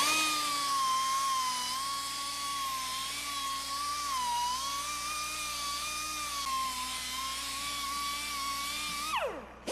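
A power tool strips rust and corrosion from the back surfaces of an F550 truck wheel, giving a steady high whirring whine that wavers slightly in pitch and then spins down abruptly at the end.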